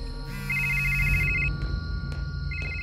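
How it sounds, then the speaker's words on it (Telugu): A telephone rings in a steady electronic trill, two bursts of ringing over a low background hum, fairly close and clear. "ఫోన్ మోగుతుంది"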